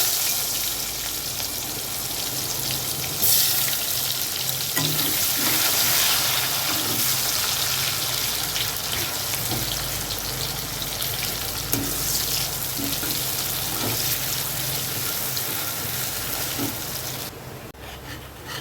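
Chopped onion and whole garam masala spices frying in oil with sugar, a steady close sizzle with scraping stirs and occasional crackles throughout, no voices.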